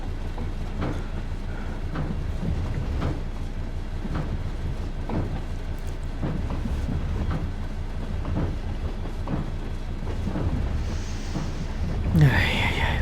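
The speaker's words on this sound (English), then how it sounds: "let's talk about the Class 66 with Tico's train guides" A Class 66 diesel locomotive train rolls steadily past at close range, giving a continuous low rumble with regular clickety-clack wheel beats over rail joints and a brief sharp squeal near the end.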